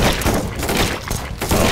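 Rapid gunfire in the zombie shooter game Run! Zombie Foods, a dense continuous barrage of shots and thumping impacts, loud and busy from start to finish.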